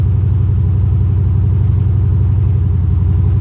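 A Datsun 240Z engine idles steadily while warming up, giving a continuous low, even rumble with a regular pulsing beat and no change in pitch or revs.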